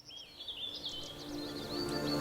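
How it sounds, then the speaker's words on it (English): Piping guan calling at a bird zoo in Niagara Falls, a run of thin, high whistled notes rising and wavering over a steady low background hum, moderately close and continuous. "I thought if Grace had a name, it would be Piping Guan"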